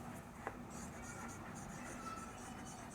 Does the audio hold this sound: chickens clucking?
no